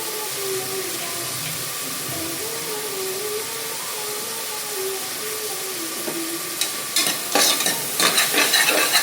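Chicken sukka frying in a pan with ginger-garlic paste while being stirred: a steady loud sizzle and hiss throughout, with scraping, clinking stirring strokes growing more frequent toward the end.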